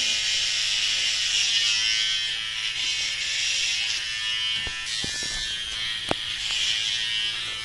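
Electric hair clipper buzzing steadily and loudly through an at-home haircut, a continuous motor hum that rises and dips slightly as it cuts hair, with a couple of faint clicks and no talking.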